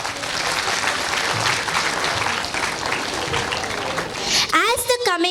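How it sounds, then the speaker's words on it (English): Dense audience applause for performers fills a school annual gathering, steady and loud for several seconds, then tapers as a voice over a microphone begins speaking near the end. "Once again, a round of applause for them."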